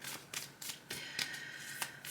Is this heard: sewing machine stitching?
no